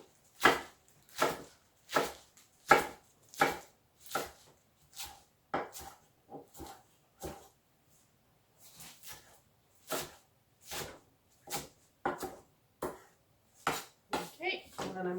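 Spinach being roughly chopped for a lentil curry, a knife striking a cutting board in a steady run of close, crisp chops that pause briefly midway before resuming.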